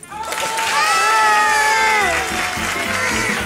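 A dense crowd screams and cheers loudly and continuously, high shrieking voices blending into a sustained roar.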